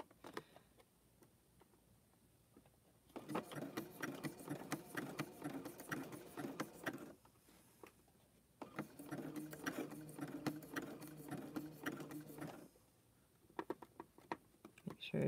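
A sewing machine stitches coils of rope together for an oval rope bowl, running in two long rapid bursts of steady ticking separated by a pause, with faint talk in the quiet gaps.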